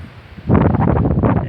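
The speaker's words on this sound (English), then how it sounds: "It's windy today." Strong wind buffets the microphone outdoors beside a railway line at Stratford as locomotive 568 prepares to depart, starting half a second in as a loud, rumbling, gusty roar after a quiet opening.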